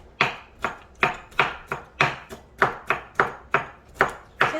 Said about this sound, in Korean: 오이는 요거 요렇게 어슷 썰기 해가지고 그 다음에 채 썰어서 준비하시면 되거든요